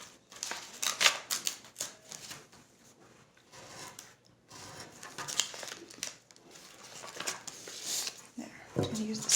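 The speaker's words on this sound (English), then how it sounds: "I'm going to use the scissors" Scissors snip and trim paper for a decoupage craft, a series of light, crisp cuts and rustles, close and fairly faint, with scattered handling noises and a person talking in between.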